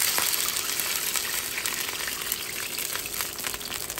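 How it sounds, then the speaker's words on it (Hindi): Six cups of water pour into a pot with chicken and rice for yakhni pulao, a steady broadband gush that runs close and unbroken throughout. "इसमें अब हम ऐड करने लगे हैं 6 cup वाटर।"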